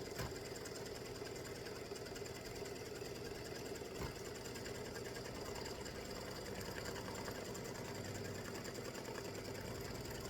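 Sewing machine runs a satin stitch on a baseball tic tac toe game set, a steady fine rapid whirring and chattering hum that continues without pause throughout, quiet and alone.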